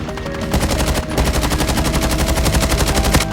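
Rapid automatic gunfire from the mobile shooter game COD Mobile rattles in loud, continuous bursts, with a brief gap near the start, and no voices over it.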